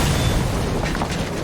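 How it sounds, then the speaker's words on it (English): A building blown up in a TV drama, heard as a loud, close, rumbling boom that rolls on heavily for the whole brief moment. "We gotta blow the building."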